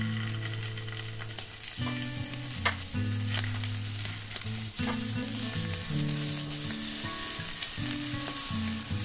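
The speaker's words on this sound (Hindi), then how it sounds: "ये पैन गर्म हो गया है, अब इसमें हम 1-2 टेबल स्पून ऑयल डाल रहे हैं। आप चाहें तो घी भी डाल सकते हैं। अब इसमें हम ये पोटैटोस रख देंगे।" Baby potatoes shallow frying in a tablespoon or two of hot oil in a pan, a steady close sizzle with occasional pops and light clinks of the potatoes shifting, no voices.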